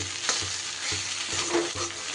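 Shredded cabbage fries in a pan with a steady sizzle while a spatula stirs it in regular scraping strokes, close and continuous.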